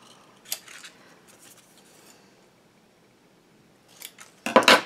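Scissors snipping through decorated craft paper: a few light, crisp cuts early on, then a louder, close burst of rapid snipping at the end, with no talking.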